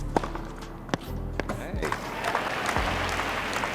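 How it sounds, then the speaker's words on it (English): Artificial crowd noise plays at an empty US Open 2020 tennis match, a steady wash of synthetic applause and murmur punctuated by sharp ball strikes and court sounds. "an artificial crowd sound that made things even weirder"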